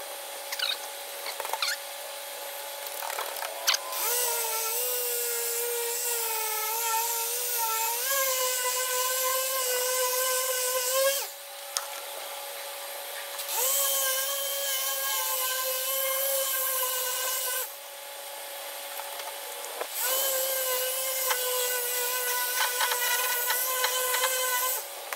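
An electric polisher spreads wax on a shop truck at slow speed, a sustained whirring motor whine that wavers in pitch and cuts out briefly twice before spinning back up.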